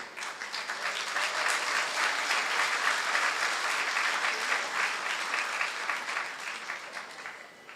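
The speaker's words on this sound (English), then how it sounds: "A round of applause again for the first presentation" A crowd applauds steadily, dense clapping that swells, holds for several seconds and then tapers off, with no voices over it.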